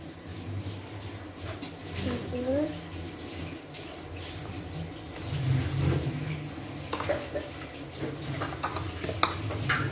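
A corn and flour mixture for lemet is stirred by hand, giving soft, irregular scraping and wet churning sounds over several seconds, fairly quiet, with faint background voices.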